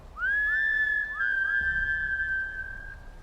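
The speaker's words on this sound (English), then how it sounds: "I hear a two-tone whistle from far away." A thin whistle repeats in quick rising slides that settle into a long held tone, faint and far off over quiet background.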